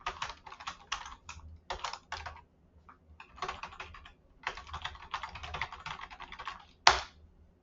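Clicky keystrokes from a computer keyboard come in quick irregular bursts with short pauses between them, heard up close with nothing else around, and one louder tap near the end.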